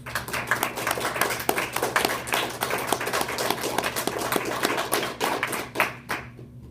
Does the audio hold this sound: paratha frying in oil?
no